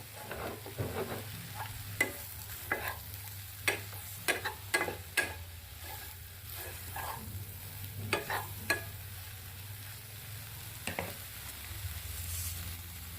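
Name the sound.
soya pieces being stirred and fried in oil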